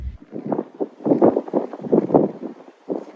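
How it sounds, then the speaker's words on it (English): Gusty wind buffets the microphone in uneven rumbling bursts, close and fairly loud, with no clear talking. "it's really windy though. I'm so sorry if you can hear that"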